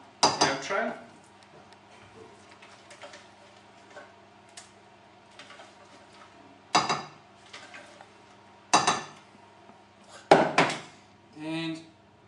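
Sticky sprouted seed bread mixture scraped and turned out into a baking tray, heard as a few scattered metallic clinks and scrapes of a utensil against the tray, close and intermittent over a steady quiet background hum.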